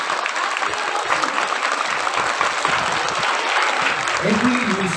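School festival crowd clapping for performers at an afternoon event, a loud, continuous wash of applause with faint voices and some low rumble mixed in near the end.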